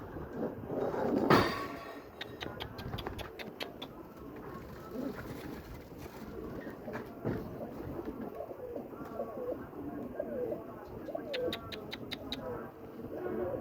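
Pigeons cooing in soft repeated throaty calls amid busy outdoor background noise in Baghdad, with other birds chirping and a few distant voices.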